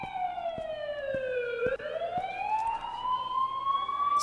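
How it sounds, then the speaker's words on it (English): A wailing electronic siren from an ambulance, most likely from a video game, falls in pitch and then rises again slowly in one long sweep, loud and steady, with a few soft clicks under it. "the sound at minimum is very like high because of the siren"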